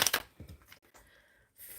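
Tarot cards shuffled by hand in a live reading: a short, quiet burst of crisp papery riffles and taps, with a brief louder flutter at the end and no talking.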